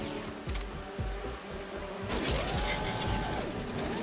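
Buzzing bees in the Spider-Man video game, a steady insect drone that holds for a few seconds, layered with game effects and swelling slightly midway, with no talk.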